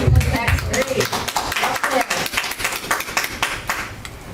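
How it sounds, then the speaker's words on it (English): Applause breaks out at a public comments meeting in Nelson County on the 502 area code split, a crowd clapping steadily and densely across the whole moment before fading slightly. "I've never heard applause at a public comment meeting when a positive comment has been made"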